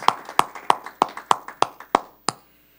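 Slow, evenly spaced hand claps, about eight sharp strokes roughly a third of a second apart, close and clear in a quiet meeting room, stopping abruptly.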